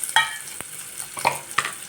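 Onion tipped into hot oil in a pan for an Uttara Karnataka mixed-vegetable bhaji sizzles softly, broken by a few sharp spatula clanks and stirring scrapes close by.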